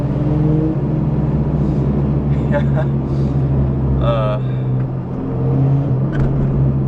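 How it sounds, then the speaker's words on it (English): A pickup truck engine drones loudly and steadily nearby as it drives up from behind, with a deep hum, while a person talks briefly over it. "You can probably hear his truck though."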